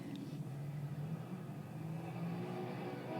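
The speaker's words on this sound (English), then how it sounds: "He's just leaving the control tower in a motor car." A motor car from the puppet series Lavender Castle pulls away from a control tower, a steady mid-pitched engine drone that holds at an even level throughout with no voices over it.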